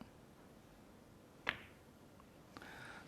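A snooker cue strikes the ball in a World Championship match, one clean, crisp click standing out from a quiet hall, followed by a softer ball contact a second later.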